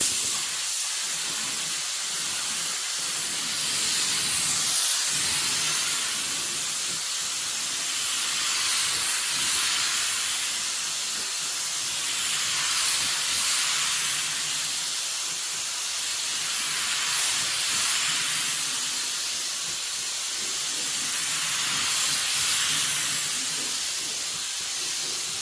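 Spray gun laying a coat of dark purple pearl paint over a Rust-Oleum black base on a fender, a steady airy hiss that swells and eases in repeated passes, close and continuous with no talking.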